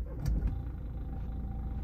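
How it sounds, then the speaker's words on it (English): A BMW X1 car engine cranks with a couple of short bursts and then settles into a low, quiet idle hum. It sounds fairly near and faint, with no one talking. "Yeah, the car starts"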